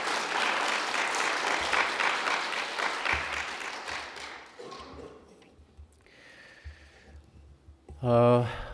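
A church congregation claps together in a dense burst of applause that thins and fades over several seconds, followed by scattered thumps and a short voice near the end.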